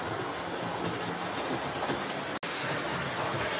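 A Hornby GWR model express locomotive running through a country station, a steady rolling rumble with faint clickety-clack of small wheels on track, close and continuous, with one brief dropout.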